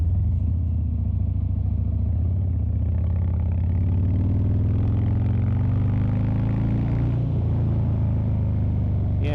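A 2019 Harley-Davidson Fat Bob motorcycle with an aftermarket exhaust idles with a deep, throaty rumble, then revs up and settles back, steady and close throughout.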